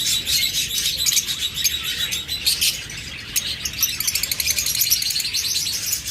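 A pair of yellow pet birds chirps and tweets steadily, with bright, high, overlapping calls that continue close by throughout, with no talking.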